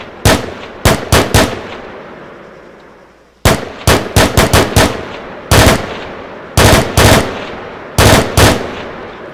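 An M16A4 rifle fires in the video game Arma III, with sharp, loud bursts of two to five rapid shots separated by short pauses and echoing tails, no talk.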